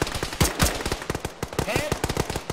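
A coaxial machine gun hammers away at a BTR armored vehicle during a military game battle, with loud, close, rapid rhythmic bursts of shots repeating without a break.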